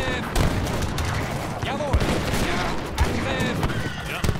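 Cannon and musket fire from an Age of Empires III battle: a dense, continuous clatter of gunshots with several heavier booms, loud and busy throughout.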